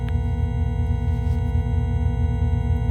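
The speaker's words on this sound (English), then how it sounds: "It does sound like a computer error." Sonified space recording giving a steady electronic tone with stacked pitched hums and a rapid pulsing buzz underneath, resembling a computer error beep, loud and continuous with no voices.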